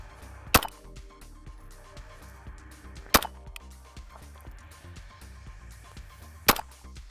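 Three loud, sharp unsuppressed rifle shots from a Noveske Ghetto Blaster in 300 Blackout with a 7.94 inch barrel, spaced a few seconds apart over a quiet outdoor background.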